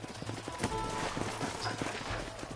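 Horses' hooves clip-clop on the ground in the Red Dead Redemption video game as riders dismount, a steady close-up patter of hoofbeats over faint ambient noise.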